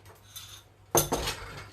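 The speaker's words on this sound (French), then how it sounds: "Un petit peu de vaisselle quand même." Dishes and cutlery clink in a kitchen, with faint handling at first, then a sharp clatter of crockery and utensils followed by a few softer knocks, close by and with no talk.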